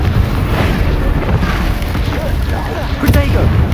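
A booming blast from the Confringo spell in the video game Hogwarts Legacy rolls out as a loud, dense explosion that fills the whole moment, with game noise layered over it.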